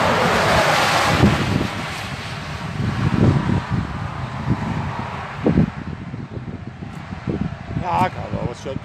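Strong wind buffets the microphone during a storm chase near Amiens, France, a loud continuous roar with gusty surges, while people talk at times underneath.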